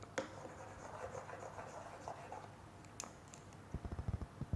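A benzene molecule diagram drawn by hand, giving a steady close scratching of pen or marker strokes with brief pauses, ending in a short run of distinct tapping clicks.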